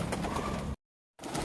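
Racing pigeons coo softly in low, repeated bubbling calls at a pigeon release, close and steady, cut by a sudden stretch of silence before the cooing resumes.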